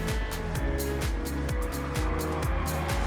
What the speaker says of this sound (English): So now the glorious sound of Ferraris is beginning to fill the air here at Monza.